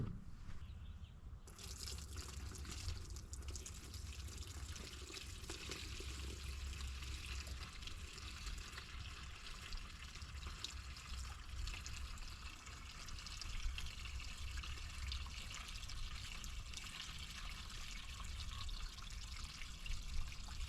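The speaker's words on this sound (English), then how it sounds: "Go ahead and drain that fuel out of that tank." Fuel from a 1985 Honda Fourtrax 250 tank trickles steadily into a drain pan, a continuous faint splashing stream that runs the whole time without pause.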